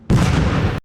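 A single nectar grenade going off in the shooter game Haze, one loud, close burst with a blunt attack and about a second of dense, roaring decay.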